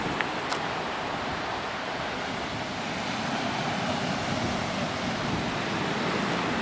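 Ocean surf at El Cotillo rolls in a steady, broadband wash of breaking waves, with some wind noise buffeting the microphone and no talking.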